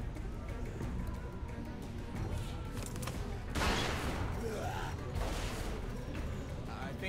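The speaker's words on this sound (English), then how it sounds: "Vince! Fire the fucking gun!" Gunfire from Vince's gun in The Walking Dead video game, a few sharp, loud shots and crashing blasts set among tense shouting voices and a dense background of chaotic noise.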